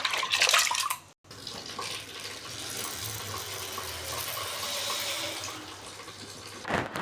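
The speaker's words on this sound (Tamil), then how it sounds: "இப்போ நம்ம அதை வடிச்சிட்டு ஊற்றி தேவையான தண்ணி ஊற்றி" Water is drained off soaking grains and fresh water is poured in, a continuous rushing splash with a brief pause near the start, close and steady, no talking.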